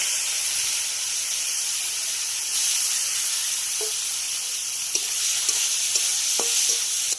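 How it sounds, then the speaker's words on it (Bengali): Prawns coated in turmeric and salt fry in mustard oil, giving a loud, continuous sizzling hiss with a few small pops and crackles toward the end. "সামান্য একটু হলুদ দিয়ে আমি মাছটা মাখিয়ে প্রথমে মাছটাকে ভেজে নেব"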